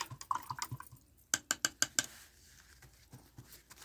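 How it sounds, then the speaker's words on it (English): A paintbrush is swished and tapped in a water container while finishing recycled coffee-can plant buckets, giving a quick run of close, crisp splashy knocks in a rhythmic burst, then quieter scattered drips. "Rinse off my brush"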